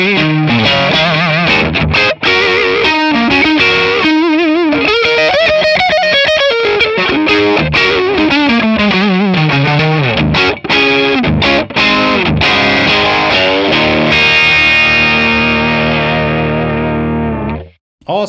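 An electric guitar through a Tonex overdrive pedal with the volume turned up, playing loud, heavily distorted riffs and sustained chords close up, ringing out into a long fading note before stopping.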